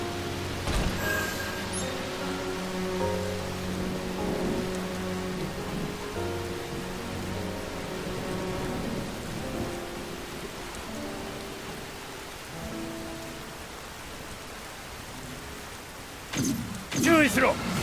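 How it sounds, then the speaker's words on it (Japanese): Rain in the Stranger of Paradise Final Fantasy Origin video game falls steadily beneath a layer of game music. A brief burst of thunder or impact noise sounds near the end, and voices may be present. "雨に反応して伸びた？"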